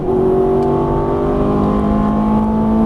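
Ferrari F430 engine on a racetrack revving hard under throttle, a loud, steady high-pitched howl with rising harmonics that climb and then settle, close and continuous throughout.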